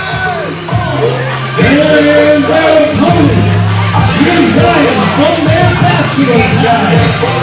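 Wrestling crowd at a 1CW tag team event cheering, whooping and shouting in steady surges across the whole span, loud and close, with bursts of yelling rising and falling over a constant roar.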